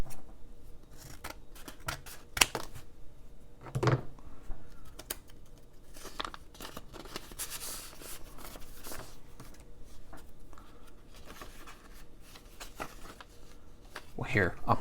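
Someone opens a mailed envelope of Pokemon cards up close, making crisp paper tearing, rustling and scraping sounds in scattered bursts, with quiet room ambience in between.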